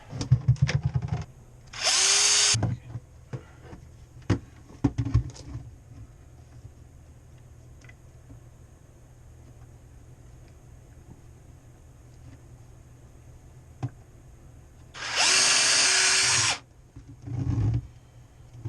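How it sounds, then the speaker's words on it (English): A power drill whines in two short bursts, one near the start and one near the end, separated by a long quiet stretch with scattered clicks and knocks. "Now we use a powerful drill."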